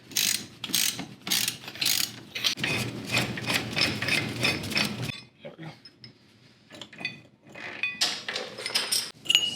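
Repeated ratcheting clicks come up close as a ball joint press is tightened on a Jeep TJ, in fast bursts with a brief pause partway through, under faint talk.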